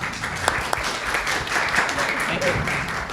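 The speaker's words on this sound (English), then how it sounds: "A big round of applause to Sven as well for moderating the session." Seminar audience applauding the session moderator, a steady wash of many hands clapping for several seconds with some voices mixed underneath.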